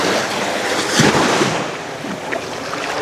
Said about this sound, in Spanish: aquí revienta la ola